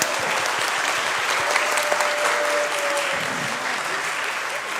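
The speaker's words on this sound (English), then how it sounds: "Let's give them a round of applause again" An audience at a children's music and arts camp program claps steadily for the young performers, a continuous wash of applause with a faint tone and a murmured voice under it.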